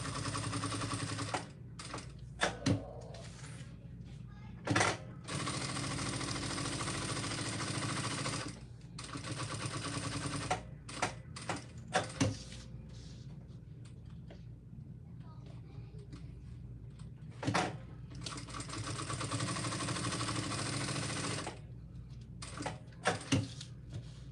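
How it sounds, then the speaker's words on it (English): A sewing machine stitches around clear vinyl on a fabric binder pouch with TPU fabric, running in long steady bursts separated by brief pauses, close and fairly loud, with a few sharp clicks between runs. "Now I'm going to go ahead and stitch all the way around that clear vinyl."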